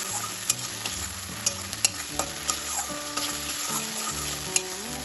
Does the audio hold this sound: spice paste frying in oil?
yes